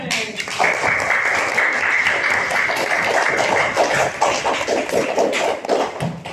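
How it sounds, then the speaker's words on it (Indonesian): A class of children clap their hands together during a school lesson, a dense, steady patter of many small claps lasting several seconds, with voices mixed in. "Tepuk tangan"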